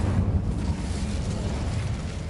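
An Incendio fire spell blast in Hogwarts Legacy, a loud, dense roaring whoosh of flame that holds steady for a couple of seconds with no talking over it.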